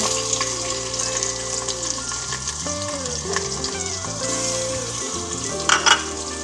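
Ginger garlic paste frying in a pan for palak chicken, giving a steady, loud sizzle with stirring scrapes, while a tonal melody plays throughout and a brief clatter comes near the end.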